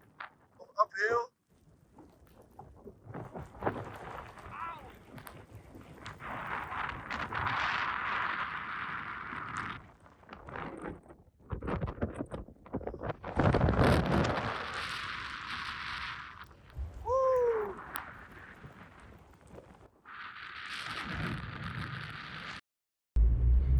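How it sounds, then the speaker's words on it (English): Strong uphill wind in the snowy Picos de Europa mountains buffets the microphone in loud, roaring gusts that rise and fall, with brief breaks and a voice speaking at moments. "It's very windy upside, uphill."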